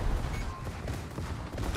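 Surcouf's secondary battery guns firing in a naval video game produce a brief stretch of repeated booming shots and rumble, with a voice faintly over them.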